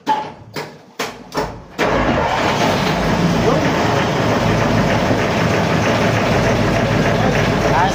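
A few short cranking bursts, then a boat engine under repair at sea on the Pacific Ocean catches and runs loud and steady, with people talking over it.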